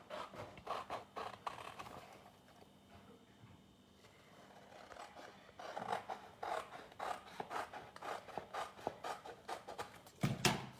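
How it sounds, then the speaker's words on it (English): Scissors cutting furniture vinyl sheet during a furniture refinishing project: repeated close scraping snips in uneven bursts, quieter in the middle and busier toward the end, with no talk. "So I've already measured and I'm cutting."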